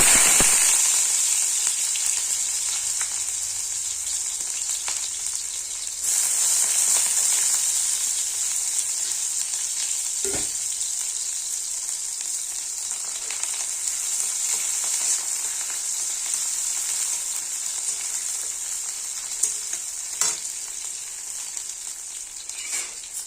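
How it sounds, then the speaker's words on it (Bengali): Cumin seeds and chopped onion fry in hot oil with a steady, close sizzle that runs unbroken, with a few faint clicks of utensils along the way and no voices. "তেল গরম হয়ে গেছে, ফোড়নে দিয়ে দিচ্ছি সাদা জিরে, দিয়ে দিচ্ছি পেঁয়াজ কুচি"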